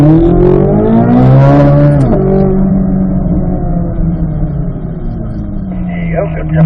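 A car accelerating hard on a timed run, the engine rising in pitch as it climbs through revs, dips at a gear change and keeps pulling, loud and close.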